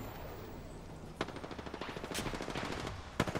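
Rapid automatic gunfire from the Apex Legends video game, a dense rattling burst of shots after a brief quiet start, with a sharp louder report near the end, close and loud.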